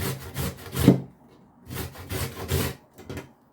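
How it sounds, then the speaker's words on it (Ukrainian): Carrots being grated on a kitchen grater for Odessa-style lecho, giving rhythmic bursts of rough scraping strokes in two close, fairly loud runs separated by a short pause, with no talking. "Моркву потрібно натерти на терці."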